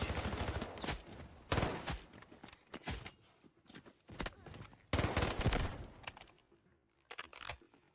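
Rapid three-round bursts from an MK4 rifle in the Delta Force video game, several loud, sharp volleys spaced a second or so apart, with quieter in-game movement and clatter between them.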